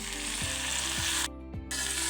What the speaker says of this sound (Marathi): भाजी व्यवस्थित परतवून घ्यायची